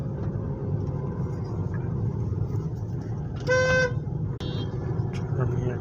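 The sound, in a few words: cars driving into Shamshabad airport road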